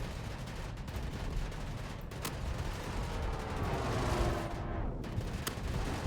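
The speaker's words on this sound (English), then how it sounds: "getting shot by a lot of ballistics from the Gladius" Ballistic cannons on Gladius fighter ships fire in Star Citizen space combat, a dense, continuous rattle of rapid shots with a few sharper cracks, fairly faint and distant.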